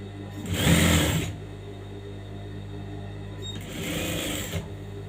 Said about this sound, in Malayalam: രണ്ട് സൈഡിലും ഓരോ സ്റ്റിച്ച് ഇട്ട് കൊടുക്കാം.